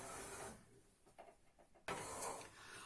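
A sewing machine stitches fabric pieces for a summer pajama in two quiet whirring bursts, one at the start and one at the end, with a softer pause of rustling and handling between them.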